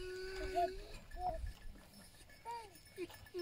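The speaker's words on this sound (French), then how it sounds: "Elles sont belles, elles ont les poils longs. Les chèvres des montagnes." Long-haired mountain goats in rural Turkey, faint scattered bleats and short calls at close to middle distance, with soft clinking of cowbells and light rustling between them.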